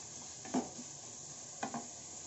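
Cabbage and other vegetables frying in a pan for vegetable noodles make a steady soft sizzle, with two brief stirring scrapes standing out near the start and middle.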